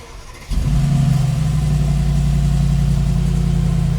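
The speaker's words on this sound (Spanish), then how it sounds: "presionar freno y" A Mercedes-AMG G63 V8 engine cranks and catches at about half a second, then settles into a loud, steady, deep idle with a low rumbling hum.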